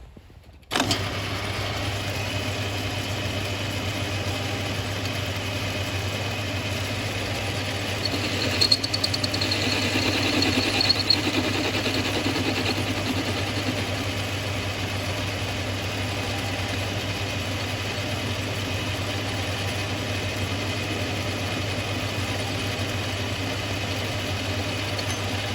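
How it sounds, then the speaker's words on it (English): An old metal lathe turns a part for a drift kart, giving a steady machine hum with a constant low drone, close and continuous, with a brief scraping rise midway as the cut bites. "we shall mainly make it nearly round with this old dunger of a lathe"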